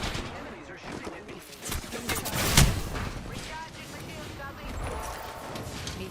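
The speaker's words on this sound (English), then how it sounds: "Enemies are shooting at me." Enemy gunfire in the Apex Legends battle royale game, with rapid shots and bursts crackling over a busy in-game soundscape and one sharp, louder report near the middle, all under ongoing talk.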